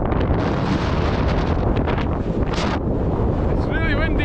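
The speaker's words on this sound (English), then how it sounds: "It's really windy today." Strong wind buffets the microphone in a constant roaring rush on a mountain summit in northern Scotland, with a brief gusty surge partway through and a faint voice near the end.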